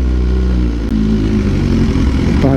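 A motorcycle rides near a motorcycle shop, its engine droning loud and close with a steady low rumble and small shifts in pitch throughout.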